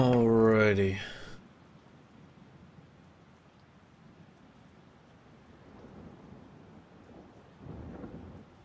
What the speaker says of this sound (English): Another rainy day here.